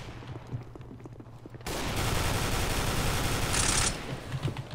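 Rapid FAMAS rifle fire in a video game, a dense, loud burst of shots over about two seconds, with quieter game noise before and after it.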